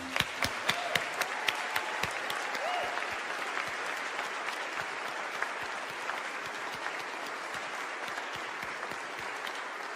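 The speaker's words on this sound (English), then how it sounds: "Another round of applause for our 2021 laureate." An audience at an evening award event gives sustained applause for the 2021 laureate: dense, steady clapping for the full ten seconds, with sharper individual claps standing out near the front.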